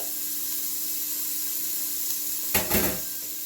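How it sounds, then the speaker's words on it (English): Chorizo sizzling in hot olive oil in a pan, a steady close hiss throughout with a brief louder burst of crackling near the end. "Olive oil is ready, so I'm going to add my chorizo in here"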